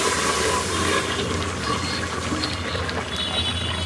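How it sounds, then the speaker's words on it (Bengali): Water is poured over fried rice in a pot while cooking biryani, a loud continuous gushing and bubbling stream close by for several seconds. "এখন হচ্ছে পরিমাণ মতো পানি দিয়ে দিব।"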